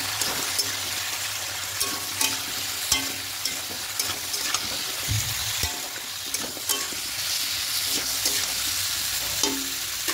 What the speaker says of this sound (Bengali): এবার সবগুলো খুব ভালো করে মিশিয়ে হালকা একটু কষে নেব